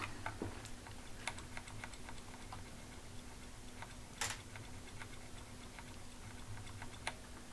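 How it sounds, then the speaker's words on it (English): Computer arrow keys tap in sparse, soft single clicks at uneven intervals, close and faint, over a low steady hum. "Notice I'm trying to make my arrow keys a little less noisy."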